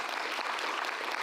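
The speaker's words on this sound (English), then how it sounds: "Let's give Tom a round of applause." Brief, faint burst of audience applause for speaker Tom after a talk on mosaic roads, an even patter of many hands with no gaps.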